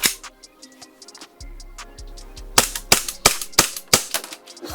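A Double Bell AM .45 gas blowback 1911 airsoft pistol, silver and black, fires a string of sharp close cracks with metallic slide clacks, slow at first and then faster in a quick volley, with no voices.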